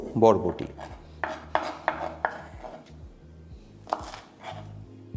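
A knife chops yardlong beans (borboti) on a board in a home kitchen, several sharp close knocks in an uneven rhythm, with quieter cutting taps between.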